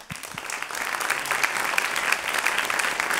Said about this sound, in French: Merci, on les applaudit.